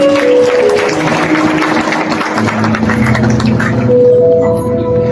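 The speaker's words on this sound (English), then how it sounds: "Let's give him a round of applause." Audience applause for a speaker welcomed on stage at a memorial service, a dense steady patter of many hands filling the room over a low sustained hum and tones.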